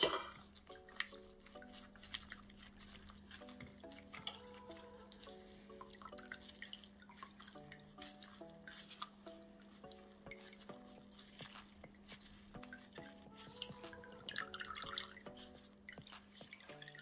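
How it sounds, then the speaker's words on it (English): Homemade fish bone broth strained through a sieve after cooking, with liquid dripping and trickling steadily over a low hum and faint background music. "I'm straining the broth."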